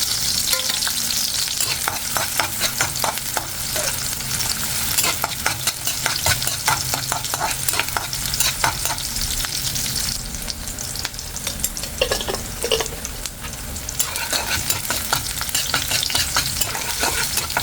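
Squid sizzles and sputters in a hot pan for adobo, with steady frying hiss and repeated scraping stir strokes throughout, close and loud with no talking.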